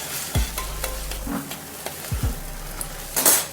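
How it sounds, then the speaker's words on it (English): Squid ink paella bubbles in the pan over high heat, with a soft sizzle and a few spoon scrapes and clinks heard up close, and no talking. "Now we will let it boil for approximately 8 minutes on high heat and then decrease the heat"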